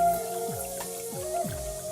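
Water drips and splashes in a few soft, rhythmic drops at a wash basin while hands are washed, set close and under a faint background hum.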